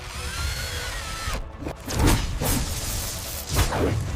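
A power drill whirs in short, uneven bursts, each spurt rising and cutting off in quick succession amid thuds and whooshes, with no talking.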